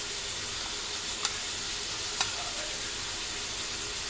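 Squid fries in a pan with a continuous bright sizzle, broken by a couple of brief clinks as it is stirred; close and steady, with no voices over it.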